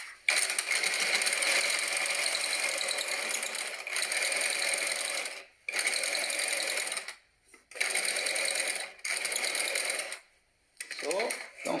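A sewing machine stitches fabric for a medical face mask with a filter pocket and nose wire, running in steady bursts of rapid stitching separated by short pauses, loud and close.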